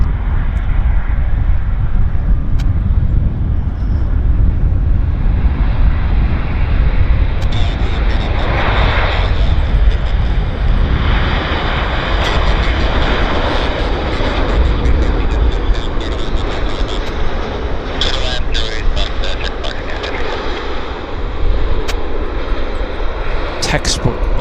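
Airplane landing at Vancouver International Airport (YVR), heard from a plane-spotting spot as a loud, steady engine roar with rushing air for the whole stretch, while people talk over it.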